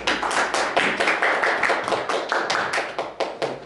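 A small audience claps for a lecturer after a Canon 7D Mark II camera session, with distinct, fairly close individual claps in a short, uneven burst and no talk.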